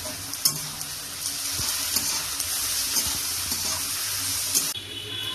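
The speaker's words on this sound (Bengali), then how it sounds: "পেঁয়াজটা লাল লাল ভাজা হয়ে গেছে" Onions fry in salted oil in a pan, sizzling steadily with a bright continuous crackle and occasional scrape-and-stir knocks, no voices.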